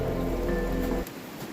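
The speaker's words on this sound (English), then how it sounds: "I'm kind of getting rained on here" Meltwater from snow-laden trees drips and patters steadily nearby as a dense rain-like wash, dropping off abruptly after about a second to a quieter background.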